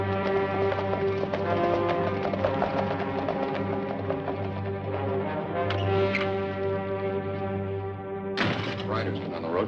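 Horses ridden along a road clop steadily over a bed of dramatic western-style music, their hooves a rhythmic patter beneath the sustained orchestral tones.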